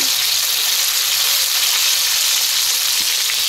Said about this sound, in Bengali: এখন আমি এক এক করে মশলাগুলো দিয়ে দেব। জিরে সরষে বাটা, এটা নেড়ে দেব।